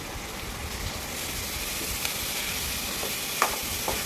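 Boiled fenugreek leaves being stirred into a hot cooking pan, with constant loud sizzling and a few soft scraping knocks of the spoon against the pan.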